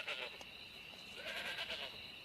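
Goats bleating in a herd setting, several high wavering calls overlapping in quick succession, fairly close and moderately loud throughout.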